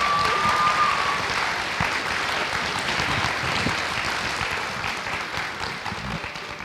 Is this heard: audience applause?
yes